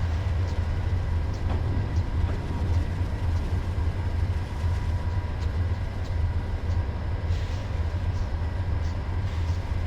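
An Amtrak P42 diesel locomotive in Train Simulator 2022, set in Arizona, rumbles with a steady low engine drone and train noise, running continuously at even volume with no speech.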